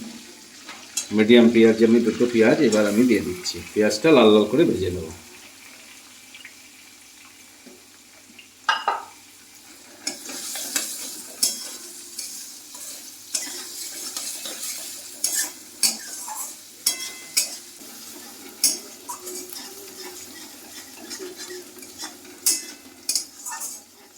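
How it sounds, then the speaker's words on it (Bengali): Someone talks briefly at first, then onions frying in a pan give a quiet sizzle beneath repeated sharp scrapes and clicks of a spatula stirring them. "পেঁয়াজটা দিয়ে লাল লাল করে ভেজে নেব আমি"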